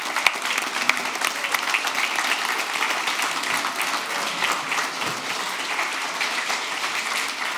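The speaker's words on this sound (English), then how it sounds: "Let's give them a huge round of applause" Sustained, even applause from a conference crowd welcoming awards show hosts onto the stage, many hands clapping densely and steadily for several seconds with no voices standing out.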